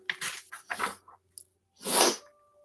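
A voice imitates a sneeze, two quick breathy build-ups followed by one sharp, close, loud burst, then silence.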